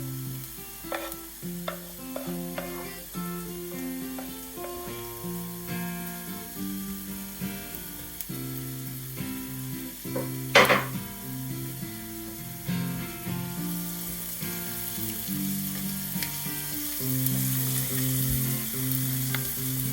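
Onion and parsley fry in a pan with a steady sizzle. Occasional utensil clinks and stirring knocks sit over a low tonal background.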